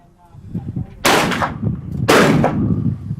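Two loud, sharp reports from a Ruger MK II .22LR pistol clamped in a Ransom Rest at an outdoor accuracy test, about a second apart, each followed by a brief ringing decay over a quiet background.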